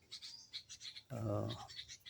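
Repeated bright red-vented bulbul chirps and calls ring out nearby, with a short burst of voice or rustling noise in the middle.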